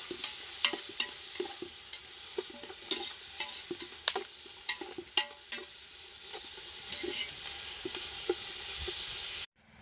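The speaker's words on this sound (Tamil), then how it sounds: "அதுவும் வெங்காயம் நல்லா வதக்கலாம்." Onions sautéing in a pan for biryani, turning golden, with a steady bright sizzle and repeated stirring scrapes and clinks of a spoon against the pan, close and fairly loud throughout.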